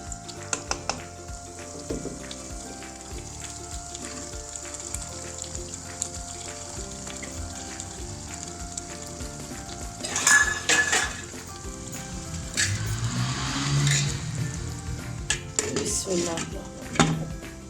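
Chicken chilli gravy cooks on a low flame in a karahi with a soft steady sizzle, scattered utensil clinks, and a louder burst of bubbling and stirring partway through.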